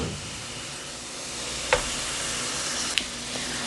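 Tomatoes tipped into a hot pot of vegetables for Bahamian crab and rice, giving a steady soft sizzle and hiss with a couple of faint clicks, no voices.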